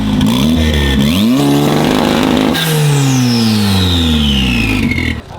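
A purple modified Mini at a car show, revved hard several times, with its engine pitch climbing and falling in quick loud bursts before one long descending rev that fades out near the end.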